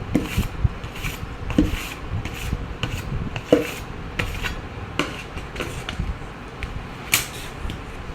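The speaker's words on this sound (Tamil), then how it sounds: "இப்போ நான் உளுந்தெல்லாம் போட்டு கிண்டுறேன்" Urad dal flour stirred by hand in a bucket, a close, dry rubbing and scraping with irregular soft thuds and knocks against the container, repeating in uneven strokes.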